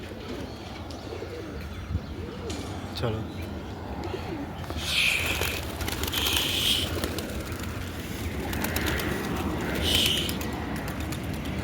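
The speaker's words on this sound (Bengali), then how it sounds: "আজকে অনেকদিন পর পায়রা উড়াবো" Pigeons coo repeatedly outdoors as a flock is released to fly, with wing flaps and chirps rising over steady background noise, and someone speaks briefly.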